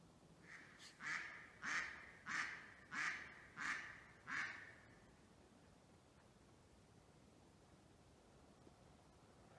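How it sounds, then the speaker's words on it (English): Ducks on a pond at dusk give a run of about six loud, evenly spaced quacks over the first five seconds, then fall quiet against faint outdoor hiss. "I've just come past the pond and the ducks seem to be having a pyjama party."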